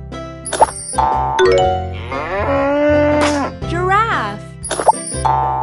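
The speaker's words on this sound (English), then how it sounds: "Cow." Cartoonish cow moo from a children's learning game, a long wavering tone in the middle framed by short game chimes, plops and a narrator's voice at the start and end.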